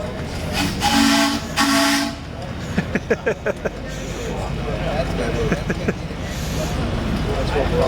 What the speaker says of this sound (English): Got the steam car rolling in.